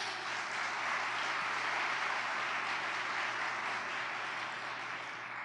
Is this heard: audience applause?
yes